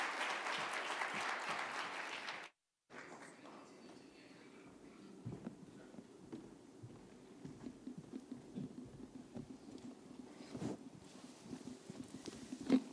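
An audience claps to welcome panelists to the stage at a talk on early access to advanced math courses. The brisk applause lasts about two seconds, cuts off abruptly, and leaves a quiet hall with faint shuffles and knocks.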